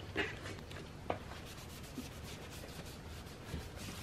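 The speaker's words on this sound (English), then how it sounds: "I'm gonna quickly clean off this surface with some rubbing alcohol and hopefully use the same pad" Soft rubbing of an alcohol pad wiping plastic trim on a Subaru WRX, a faint steady scuffing with a couple of light taps, close and quiet with no talking.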